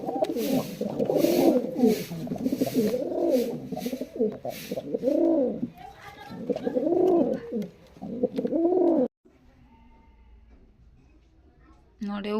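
Domestic pigeons cooing at a nest with chicks, a steady run of low, throaty coos repeating close by for about nine seconds before dropping to near silence.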